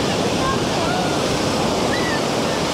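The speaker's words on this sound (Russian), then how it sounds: "прекрасное, но штормящее море, настоящее, мужское, я люблю гораздо больше" Stormy Black Sea waves break on the beach at Vityazevo near Anapa, giving a loud, continuous roar of surf mixed with wind noise and no pauses.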